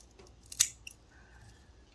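Scissors make a single crisp snip while trimming the crown of a dahlia tuber for potting, close and fairly quiet against a hushed background.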